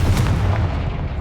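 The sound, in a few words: Confringo explosive spell blast in Hogwarts video game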